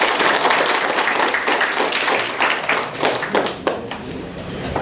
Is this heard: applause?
yes